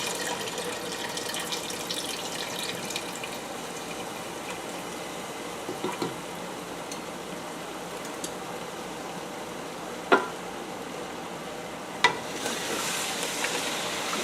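Beef stew with canned beef broth is stirred in a pot, producing a steady watery sizzling wash with occasional soft scrapes and clinks of the spoon against the bottom.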